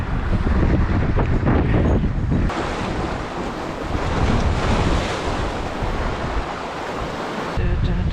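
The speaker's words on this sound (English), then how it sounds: "I felt the wind was starting to die at this point" Wind buffets the microphone while waves wash and slap around a small fishing boat at sea, loud and continuous, easing slightly in the middle before gusting up again.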